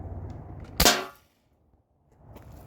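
A single sharp, loud shot from a modded T4E HDB shotgun pops up close, then quickly fades to near silence.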